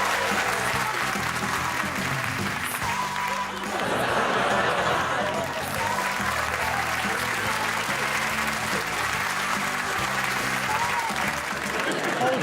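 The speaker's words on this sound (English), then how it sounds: "Hold your applause." Sustained applause from a large television studio audience fills the room, steady clapping throughout with a few voices talking faintly underneath.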